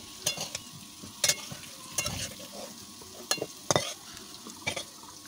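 Meat fries in a generous amount of hot oil with a steady sizzle, broken by sharp stirring scrapes and clanks of a spoon against the pan at irregular intervals.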